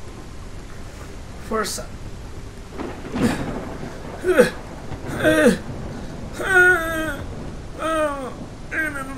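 Steady rain with thunder rumbles in a PSVR 2 virtual reality game, continuous throughout with repeated chirping calls rising over it and a brief spoken word.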